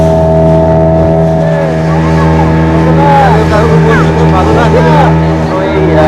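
Motorboat engine on a reservoir ride near Masanjore dam, with a loud, steady droning hum and whining harmonic tones that hold throughout, with speech faintly mixed underneath.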